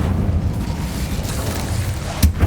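A fiery Incendio spell blast goes off in the Hogwarts Legacy video game, a short booming burst near the end over a steady rumbling bed of ambient game noise.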